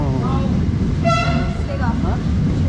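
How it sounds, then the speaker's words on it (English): An Italian train horn or whistle sounds briefly in the middle, tonal and steady, over constant rumbling background noise and some speech, near Bari and Monopoli. "Train Italiano."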